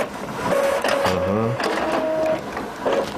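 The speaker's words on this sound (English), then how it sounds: "Now you can see the printer is working." An Epson L3150 inkjet printer prints a page, with steady mechanical whirring and motor whine plus shifting feed tones close by, and a voice briefly speaks over it.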